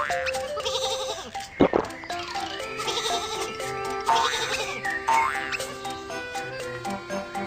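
Cartoon sheep bleat repeatedly over a busy, bright musical background on a train track scene, the calls clear and close amid the music.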